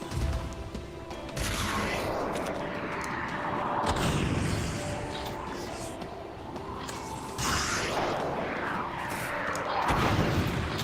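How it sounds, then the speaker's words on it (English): Booming blasts and crashing impacts from an explosion in a VR shooter game, played on a Quest 2 headset, come in loud, dense bursts around the start, middle and end of a continuous roar of gunfire-like noise. "Barely escaped that explosion."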